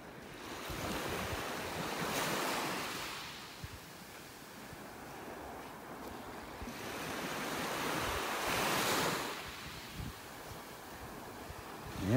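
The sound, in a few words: waves on the beach in North Naples, Florida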